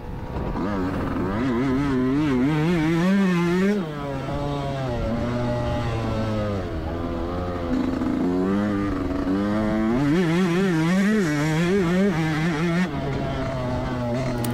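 A 2024 Yamaha YZ125X two-stroke dirt bike on a test ride lap, its engine revving up and down through the gears in a loud, continuous wailing buzz, close by throughout.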